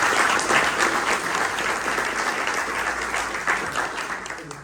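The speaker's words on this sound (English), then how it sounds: "So just a round of applause for both of them." A luncheon audience gives a warm round of applause, dense steady clapping from many hands that fills the room and slowly tapers toward the end.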